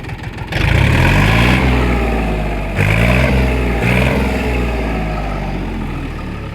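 A Kentavr tractor engine revs hard under throttle in a loud, steady drone that eases off slightly, then surges again in two short bursts. The tractor is near, and no voices are heard.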